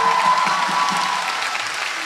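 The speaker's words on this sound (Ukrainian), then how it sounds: "Оплески, оплески" Audience applause at a university first-year students' debut show; a brief wash of crowd clapping, fairly diffuse and steady, with faint tonal sounds in the background.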